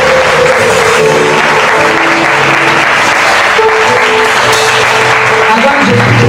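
A church congregation at a Sunday worship service breaks into loud, sustained applause and acclaim, steady and dense from start to finish, with voices mixed into the clapping.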